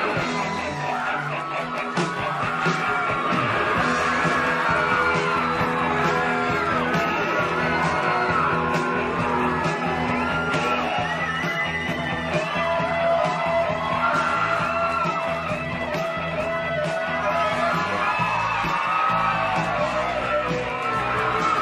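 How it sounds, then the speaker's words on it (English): A wrestling arena crowd cheering and shouting for Sting at NWA World Championship Wrestling, a dense, sustained roar of many voices with whoops and yells that stays loud throughout. "people rise to their feet to cheer for Sting against Terry"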